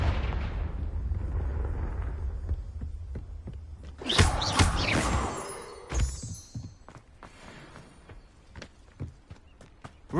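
The Confringo explosive spell goes off in Hogwarts Legacy, a loud burst with crackling debris around the middle, followed by scattered impacts and footstep-like thuds fading out.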